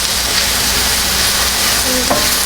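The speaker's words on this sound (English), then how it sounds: "We're going to let them continue to cook down. Yeah, I just like to keep stirring it." Caramelized onions cooking down in a pan over moderate heat, a loud continuous sizzle close up, with a spoon stirring through it.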